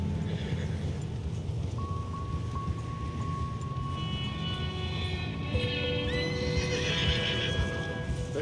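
A horse in the Red Dead Redemption 2 video game whinnies loudly while hooves clip-clop steadily, set against a constant outdoor ambience with a low game soundtrack drone.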